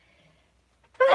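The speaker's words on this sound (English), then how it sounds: "there is something in it that's making me sneeze" A single sudden sneeze bursts out loud and close after a stretch of near silence, at the very end.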